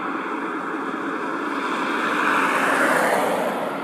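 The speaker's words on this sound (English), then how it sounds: "Cars are a little noisy" Traffic on a road near a riverbank produces a steady broadband roar of passing cars that swells slightly toward the end, moderately loud with no voices.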